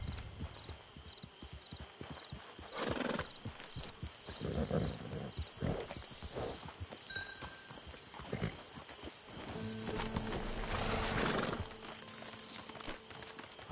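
Horse hooves clip-clop on the ground in a PS4 video game, with irregular bursts of hoof steps and movement noise over roughly fourteen seconds, with ambient game sounds throughout.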